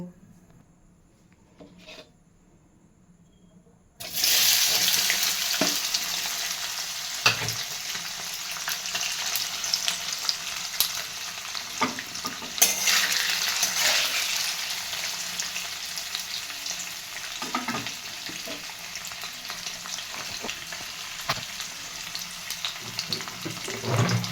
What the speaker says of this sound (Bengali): এবার পনিরগুলো হালকা করে ভেজে নেব